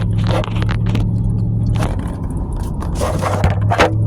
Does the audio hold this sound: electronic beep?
no